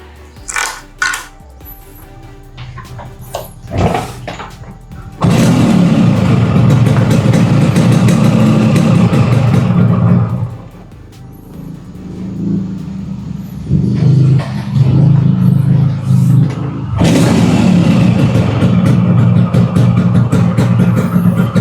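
Two-stroke Yamaha RX King motorcycle engine being started with a few short bursts, then catching and running loud and steady at idle, dipping briefly before settling into a rough, close idle.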